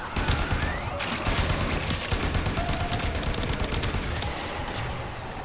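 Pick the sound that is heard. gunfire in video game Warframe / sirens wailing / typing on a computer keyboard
gunfire in video game Warframe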